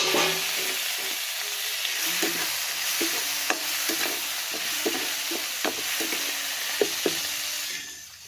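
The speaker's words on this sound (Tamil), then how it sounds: "இதோட பச்சை வாசனை போனதுக்கப்புறம் தக்காளி அதுக்கப்புறம் தக்காளி போடுறேன்" Onion and tomato frying in a pan, with a steady close sizzle and a series of scraping stirs and light spatula knocks spread through it; no talking.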